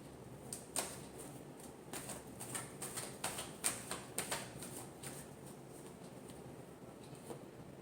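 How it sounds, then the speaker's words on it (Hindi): Tarot cards being shuffled by hand nearby: quiet bursts of soft riffling clicks and flicks over several seconds, then tapering off into near silence. "लास्ट शफल करेंगे।"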